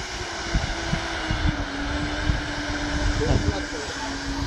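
An RC McDonnell Douglas MD-80 model jet at full throttle during a taxi test: a steady, loud, continuous whine and rush close by, with people talking over it.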